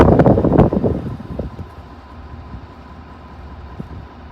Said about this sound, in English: Sure is windy, a little chilly.